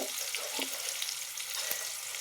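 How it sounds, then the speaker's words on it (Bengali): Plantain slices fry in a pan of hot oil for a Bengali rohu fish curry, giving a steady close sizzle with a few soft clinks and stirring sounds, no voices. "তো কলাগুলো ভাজা হচ্ছে"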